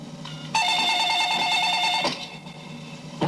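A telephone number is dialed to reach a chief minister's office, with a run of even electronic dialing or ringing tones that start abruptly, hold steady for about a second and a half, then stop, and no voices over them.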